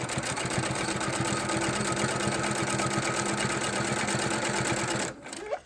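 A sewing machine stitches a folded fabric tube, giving a fast, steady mechanical chatter of needle strokes that runs evenly and close up, then stops abruptly near the end with a brief rustle of fabric.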